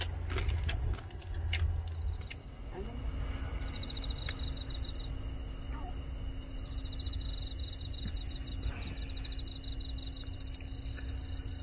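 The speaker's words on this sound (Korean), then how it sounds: "귀뚜라미 시끄럽지만" Faint crickets chirp at night beside a Kia Grand Carnival set up for car camping, with thin trilling bursts over a low steady background hum and occasional distant traffic.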